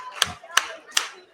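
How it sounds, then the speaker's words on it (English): Sharp, loud claps from an audience at the ETHDenver 2022 opening ceremony, three distinct crisp bursts spaced evenly about a third of a second apart, with a faint murmur between. "Clap 5 times if you can hear me."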